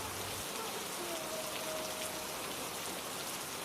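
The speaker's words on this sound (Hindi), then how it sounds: "बाहर बारिश पहले से भी तेज हो चुकी थी।" Heavy rain falls outside a house, a steady, even hiss of downpour filling the whole moment with no voices over it.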